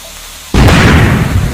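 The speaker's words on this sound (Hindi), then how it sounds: "देखो जलपरी, ये दिवाली का पटाखा है। ये बहुत तेज आवाज करता है।" A cartoon sound effect of a Diwali firecracker going off: after a moment of near quiet, a sudden loud bang breaks into a broad roaring rumble that fades slowly.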